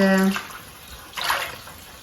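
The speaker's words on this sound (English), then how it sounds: "So I've got some water run anyway" Hot water runs briefly from a tap while a stitched canvas is being prepared for washing, a short splashing gush that fades and then returns in a second small surge.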